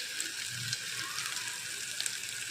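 Masala for a soybean gravy fries in oil, giving a continuous soft sizzling hiss that stays even throughout with no voices.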